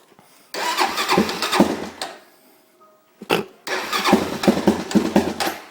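A Honda TRX 400EX ATV engine with the choke on cranks over and sputters in two long loud bursts, a silent gap between them, without settling into an idle.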